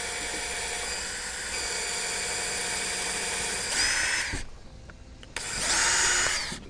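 A power drill bores a starter hole for an eye strap while installing an overwater net on a yacht, whining steadily at close range, briefly cutting out around the midpoint and then spinning up again.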